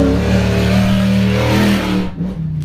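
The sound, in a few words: off-road race vehicle engine revving over jumps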